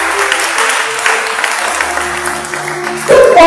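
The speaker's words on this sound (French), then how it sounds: "On va acclamer cette parole." Church congregation applauding and cheering together, a steady, full wash of clapping that holds evenly and swells louder near the end.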